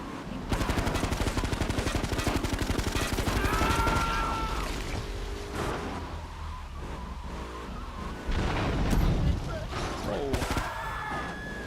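AK-47 gunfire in Grand Theft Auto 3, with rapid automatic bursts blending into car engine noise and skidding, loud and continuous, while a voice talks over the action at times.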